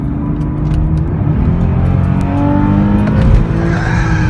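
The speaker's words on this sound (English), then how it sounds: "You want a downshift, a little click here." A 2006 Porsche 911 S Cabriolet with 24,000 miles drives hard through a manual downshift, its flat-six engine loud and close with a sustained growl and a rising blip near the end, and no voices.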